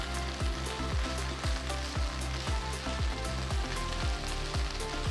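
Fresh mint leaves sautéing in a pan, a continuous close sizzle and crackle with rhythmic scraping strokes of stirring, moderately loud and alone without talking.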